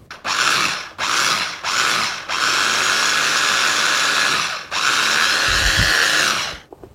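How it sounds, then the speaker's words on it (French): A blender mixing foie gras with Gloria milk for foie gras verrines whirs loudly in three short pulses, then runs in two long sustained bursts before cutting off, with no talk. "nous allons mixer le tout afin que le foie gras se fonde dans le lait Gloria"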